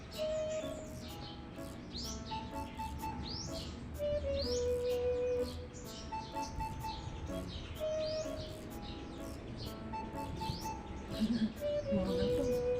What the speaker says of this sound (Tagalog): Pati ikaw, Sam, nakikinig ka Sam sa ibon, Sam?